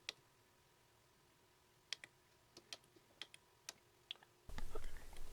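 Quick typing on a homemade tactile keyboard for a Sinclair ZX81 produces about a dozen sharp, separate clicks at an uneven pace, close and clear over quiet background, ending with a burst of louder noise.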